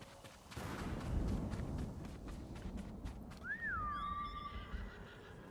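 A horse in a video game gives a loud whinny that rises and falls near the end, over a steady bed of hoofbeats and game ambience.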